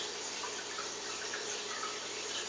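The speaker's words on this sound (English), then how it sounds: "You're going to be using your hands in this to wash the rice" Clean hands swish and stir rice in a bowl of water while preparing to brew sake, a steady close watery sloshing that runs throughout without any voices.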